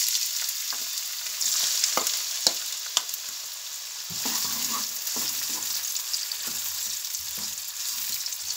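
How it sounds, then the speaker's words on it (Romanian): Onions sautéing in hot olive oil in a frying pan, a lively close sizzle with crackling pops and several sharp clicks and scrapes of stirring, no talking. "Acum că uleiul s-a încins, punem prima dată ceapa la călit."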